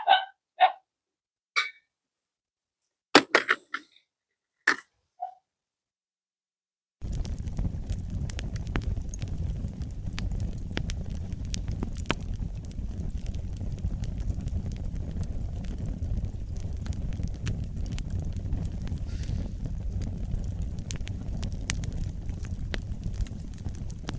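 Tinder bag lit with a firestarter catching and burning, a few sharp isolated clicks and pops at first, then a sudden steady crackling hiss of flames that carries on for over fifteen seconds, close by.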